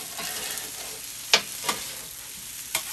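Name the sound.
teriyaki chicken frying on a flat top grill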